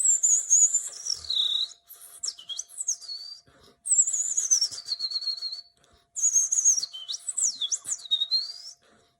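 Human whistling that imitates blue tit song: two bright, sliding phrases, each a high trill-like run followed by swooping notes, separated by a short pause, loud and close with no speech.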